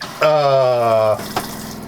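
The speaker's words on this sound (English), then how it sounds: "that's the shower working" A shower runs inside a stealth camper van, giving a loud, steady humming spray for about a second before dropping to a softer wash of water.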